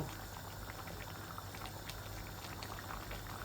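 Chicken liver and potato curry boils after water is added, giving a dense, steady bubbling and sizzling throughout, close and even, with no talk over it.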